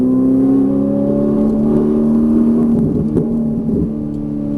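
A Ferrari 458 Italia is driven on a racetrack, its engine holding a loud, steady, rising drone from inside the car, continuous throughout and easing slightly near the end.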